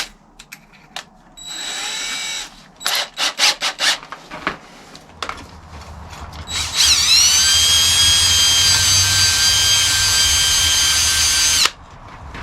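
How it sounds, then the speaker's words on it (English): A power drill boring a hole through an old knife blade: short bursts and quick triggered pulses give way to a long, loud, sustained whine with a low grinding rumble beneath, ending abruptly. "get this drill bit, get it put into my drill and work a hole"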